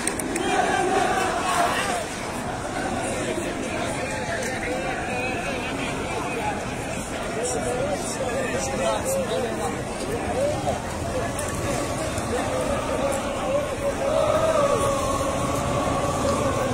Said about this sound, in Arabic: كيف كتشاهدوا مغادرات الجماهير، واحد الجو احتفالي، جو رياضي، احتجاج سلمي